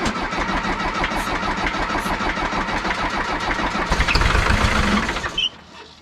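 An engine on farm equipment at a pond-building site cranks steadily with a rapid, rhythmic churn after a whiff of ether, surging briefly louder before it stops without catching.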